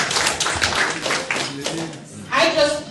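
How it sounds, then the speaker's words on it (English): An audience at a media launch for the Seville Emancipation celebration claps together in a burst that runs throughout, mixed with chatter and talk, then briefly thins before a fresh swell of clapping near the end. "Give ourselves a clap."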